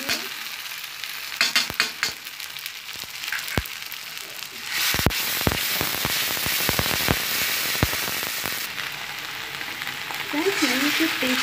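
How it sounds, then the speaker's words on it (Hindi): Spice masala frying in oil with golden onions for chana dal, a loud, steady sizzle that crackles throughout, broken by sharp scraping and tapping strokes from a spoon against the pan, with a voice briefly heard at the end. "मसाले को लगातार इसी तरीके से भूनते रहेंगे जब तक ये लाल ना हो जाए।"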